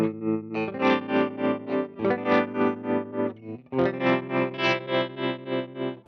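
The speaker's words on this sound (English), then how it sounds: "And then we have the tremolo." Electric guitar chords played through a tremolo effect on an amp modeler pedal, with a steady pulsing volume wobble across sustained strums, loud and clear with no talking.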